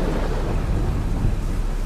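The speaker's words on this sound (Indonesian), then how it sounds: "Suara petir" A deep, rumbling roll of thunder in the video game Sophie Curse booms continuously, with a hiss of rain layered over it.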